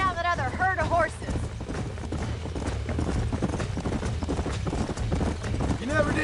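Horses' hooves clip-clop in the video game Red Dead Redemption, a rapid steady patter under game music, with a horse whinnying near the start and people talking over it.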